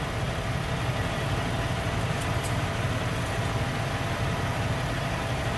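A warmed-up 1997-2004 Buick Regal engine idles steadily, a constant low rumble with a broad hiss and no change in pace, heard close and alone.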